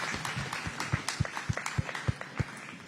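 Scattered, fairly faint audience clapping follows a SuperMotocross playoff race, honoring the 250 class podium riders at a post-race press conference in Charlotte, North Carolina; a handful of distinct claps stand out against the room noise.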